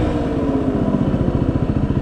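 A motorcycle engine runs hard and steady at high speed in sixth gear on a road ride, a loud continuous throbbing drone with rapid rhythmic pulsing, close and constant throughout.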